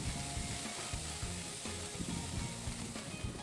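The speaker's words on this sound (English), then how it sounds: "Listen to that sizzle, I love it." Kebabs sizzle on a hot grill in a loud, unbroken hiss and crackle heard up close, with faint low knocks and murmurs underneath.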